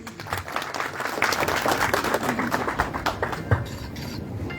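An audience breaks into dense, continuous applause, many hands clapping together at a steady level for several seconds.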